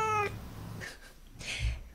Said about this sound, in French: des séries de mèmes de Bob l'éponge et de chats qui parlent comme ça